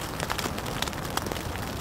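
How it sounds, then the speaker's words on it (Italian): Steady rain falls on a mountain trek, a dense, even hiss with scattered close drops tapping, continuous and unbroken. "Piove."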